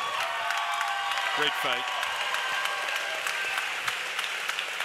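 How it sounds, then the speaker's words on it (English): Crowd applause and cheering fill an arena after a women's fight between Glory Watson and Natalie Schlesinger, a dense roar of clapping carrying throughout while a voice speaks briefly over it. "how about a round of applause for both these ladies?"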